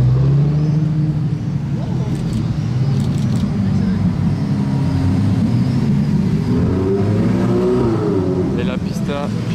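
A Lamborghini hypercar drives past on a Monaco street during the Grand Prix, its loud engine roar filling the scene and swelling as it revs, with people talking over it.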